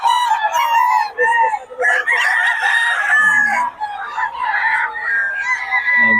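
A rooster at a gamefowl farm crows repeatedly and loudly nearby, with several long cock-a-doodle calls and clucks running back to back.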